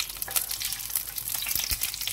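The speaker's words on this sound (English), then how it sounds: "Now we put the cooking olive oil." Cooking olive oil sizzles steadily in a pan, a dense, close crackling hiss with small pops throughout and no talking.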